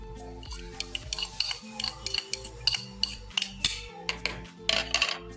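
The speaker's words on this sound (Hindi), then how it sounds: "सब चीज़ों को अच्छी तरह मिक्स कर लो हाथ की मदद से।" Shami kabab mixture of minced duck, eggs, coriander and garlic is mixed by hand in a bowl, a close series of soft squishing pats and light clinks while someone talks.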